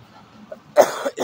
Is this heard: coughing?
yes